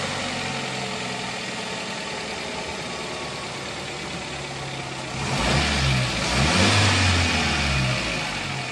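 A car with a faulty camshaft position sensor and the check-engine light on: a steady close engine drone that swells into a short burst of revving, then settles back to a rough idle.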